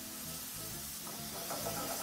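Lean beef mince fries in a pan, a soft steady sizzle and hiss with faint crackle, fairly quiet and without speech.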